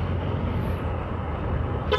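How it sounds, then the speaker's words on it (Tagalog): A Yamaha Fazzio 125 scooter sounds a single short, loud horn toot near the end, over a steady rumble of engine and road noise. "O diba, ang lakas ng busina niya."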